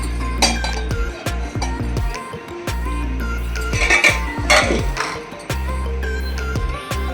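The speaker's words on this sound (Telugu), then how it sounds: "ఇప్పుడు వేరే గిన్నె పెట్టుకుందామండి." A cooking pot clinks as it is set down on a stovetop in a home kitchen while kondapindi aaku curry is being made, with several light metallic knocks over steady background music.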